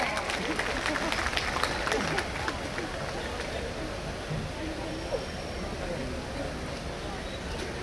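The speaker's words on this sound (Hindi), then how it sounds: "सर का पुनः जोरदार तालियों के साथ स्वागत किया जाए।" An audience at a formal address claps warmly in welcome, a dense patter strongest over the first couple of seconds before thinning into a softer, steady murmur of hands.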